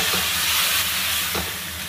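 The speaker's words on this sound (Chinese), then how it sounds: "然后调小火下入这个梭子蟹" Swimming crab pieces dusted with starch pan-fry over low heat in a little oil, giving a continuous, even sizzle with light hissing throughout and no voices.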